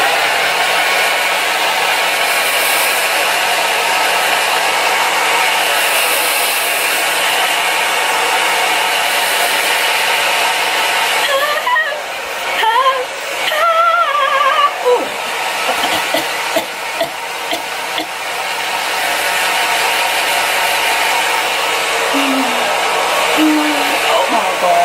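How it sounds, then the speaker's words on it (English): A hair dryer blows on wig glue on an old tangled synthetic wig, a loud continuous whoosh that dips briefly midway while someone talks, then resumes steady. "So you're gonna take your hair dryer and you're gonna dry it."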